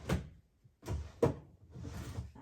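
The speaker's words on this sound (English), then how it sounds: "Goes back in the drawer." A drawer slides and closes during a paper-crafting session, giving several soft low thumps and a brief scraping slide, close and quiet.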